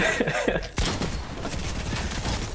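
Gunfire in a video game comes as a sharp shot followed by a dense rattle of shots and clatter that fills the rest of the moment, loud and close.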